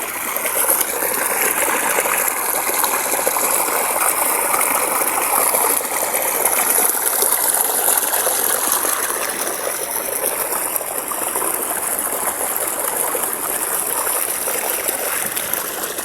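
A mountain stream in the rural Philippines rushes strongly after rain, a loud, steady, close wash of flowing water that continues without break and without talk.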